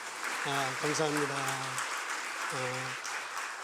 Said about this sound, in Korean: 같이 우리 박수 한번 하겠습니다.